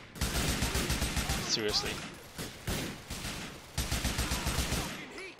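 Rapid bursts of gunfire from a GTA 4 shootout crackle almost throughout, dense and loud, broken by a couple of short gaps, with someone talking over the shots.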